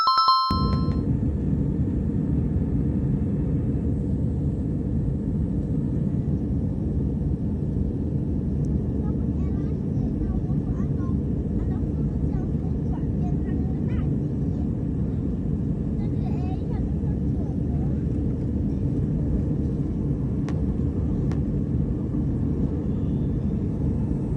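An airplane taking off from Boracay gives off a continuous loud low engine rumble that stays steady throughout the climb, with a brief chime at the start.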